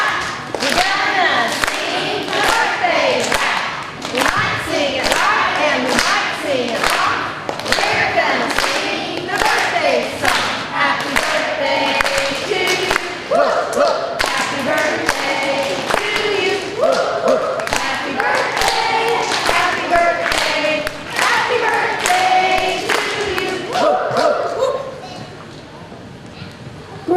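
Schoolchildren at an elementary school morning assembly clap along to a birthday rap, a steady rhythmic patter of many hands mixed with singing and voices filling the hall throughout.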